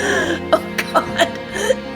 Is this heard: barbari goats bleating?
no